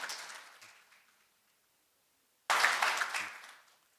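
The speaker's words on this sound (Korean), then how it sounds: "박수로 환영해 주시기 바랍니다" An audience at a carbon-neutrality conference in Chungcheongnam-do claps in two short rounds, one fading quickly and a second brief, brighter burst that tapers off, both fairly quiet in a large hall.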